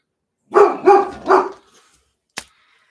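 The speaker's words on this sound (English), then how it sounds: "Oh no, you're gonna make my dogs bark." Dogs at a home with a driveway let out three close, loud barks in quick succession, followed by a short sharp knock or click after a pause.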